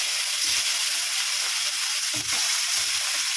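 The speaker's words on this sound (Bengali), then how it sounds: "মাছটা এবার আমি দিয়ে দিলাম তেলে" Pieces of katla fish fry in hot oil in a wok, giving a loud, steady, close sizzle and hiss that carries on throughout with no voices.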